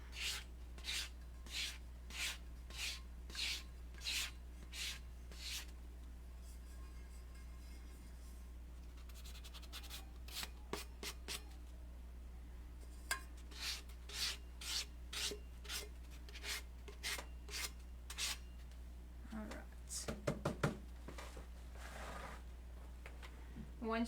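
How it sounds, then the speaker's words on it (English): Tumbler rubbed by hand with a squishy sanding block, rhythmic back-and-forth rasping strokes in regular bursts, close and fairly quiet, with a pause and irregular scrubbing later on. "I like these little sanding blocks because they're squishy, so I can kind of get in the creases of the bottom too."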